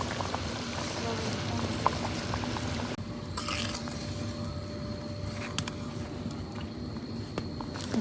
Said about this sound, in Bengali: ঝুলটা তো বলকাইসা পড়ছে